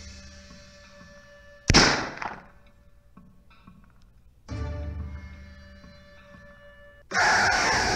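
Loud gunshot bursts in a video game, a sharp blast followed by a second and a third, each with a broad crackling tail, separated by quieter background noise.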